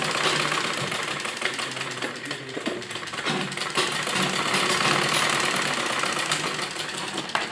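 A sewing machine runs continuously, stitching a seam on a baby kurti, a dense rapid rattling hum with no talking.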